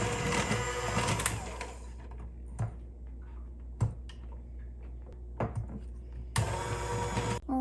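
An electric mixer runs in a home kitchen while making empanada dough, whirring loudly in a burst at the start and again near the end, with quieter clicks and clatter in between.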